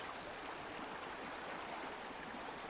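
A river flows steadily outdoors, a dense, even rush of water that holds at the same level throughout with no voices or other sounds.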